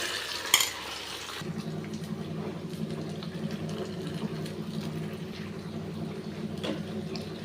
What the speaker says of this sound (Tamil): இதை வதக்கிட்டே இருக்க வேண்டியதான்